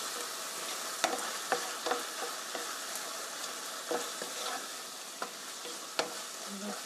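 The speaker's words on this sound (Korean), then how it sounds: "이렇게 양념이 골고루 잘 볶아지면 양념을 골고루 잘 볶아주세요." Seasoning stir-fries with sesame oil in a pot for tofu stew, a soft steady sizzle punctuated by scattered taps and scrapes of a spoon against the cookware, fairly quiet and without talking.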